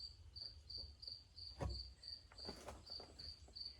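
Crickets chirp in a steady, evenly spaced pulsing trill inside a greenhouse with tomato plants, faint and continuous, with a few soft rustles and a low thump partway through.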